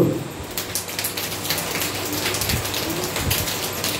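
An audience imitates light drizzling rain by clapping, producing a dense, continuous patter of soft scattered claps from many hands in a hall.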